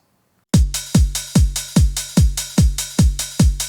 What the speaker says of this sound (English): I went for a kick drum, closed hat and an open hat from the 909 kit